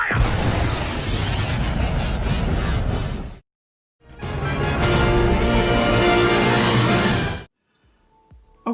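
Blaster gunfire and explosions roar through a Star Wars clone trooper intro in two long, loud, dense bursts, each lasting several seconds and ending abruptly in near silence.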